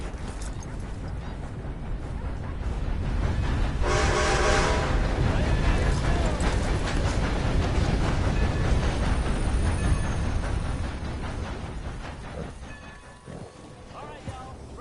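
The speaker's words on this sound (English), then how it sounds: "Train's here." A steam train arrives at a station in the open-world western video game Red Dead Redemption 2. Its dense rumble and clatter build to a loud peak with a brief hiss of released steam, then slowly fade to quieter rolling noise.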